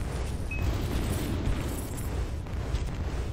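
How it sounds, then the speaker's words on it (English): Constant dense rumbling bursts of fireworks explosions fill a Chronicon video game scene, a steady loud wash of low booms with no pauses or talk. "Fireworks everywhere."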